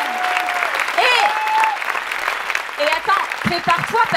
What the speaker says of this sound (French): On applaudit Cécile.